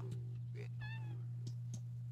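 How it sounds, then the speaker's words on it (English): A kitten meows in The Sims 2, giving a short, high, tonal cry in the middle of the clip over a steady low electrical hum, with a few faint clicks around it. "Herb is coming outside to get the kitten."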